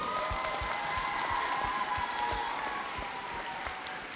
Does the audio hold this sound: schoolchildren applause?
yes